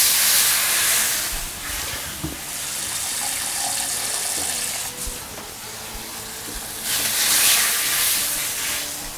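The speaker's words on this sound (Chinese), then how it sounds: "好，加入清水" Water poured into a hot wok bursts into a loud, broad hiss and steaming rush that eases off, then swells again near the end, close and continuous with no voices.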